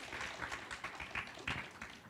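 A church congregation applauds together for a child during a sermon, a steady wash of many clapping hands lasting about two seconds with a few louder swells, close and full, with no talk over it.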